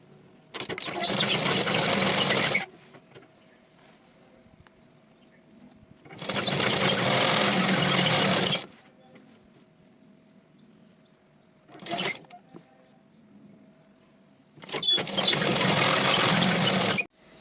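Sewing machine running on a simple domestic machine while stitching a picot fall hem along a saree edge, heard as four separate bursts of steady whirring, three long and one short, with quiet pauses between.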